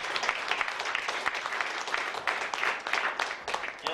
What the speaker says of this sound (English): Big round of applause for Wes Funk.